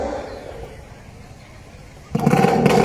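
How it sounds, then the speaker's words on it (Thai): A BT9-class racing speedboat engine starts at a boat race. It bursts into a loud, sustained roar after a quiet, murmuring stretch. "พร้อมแล้วติดเครื่อง"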